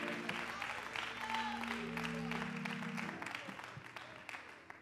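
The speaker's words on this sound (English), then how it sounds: "Give a hand clap to the Lord." A church congregation applauds with continuous overlapping claps, a low held tone humming beneath the first few seconds, then thinning slightly toward the end.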